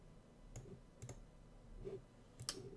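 A handful of soft, quiet computer mouse clicks, spaced apart with a quick pair near the end, sound against faint room hiss while clicking a link in the Notepad++ text editor.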